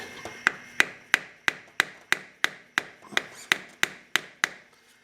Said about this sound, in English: Take a screwdriver or small tool